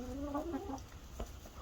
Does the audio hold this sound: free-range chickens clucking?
yes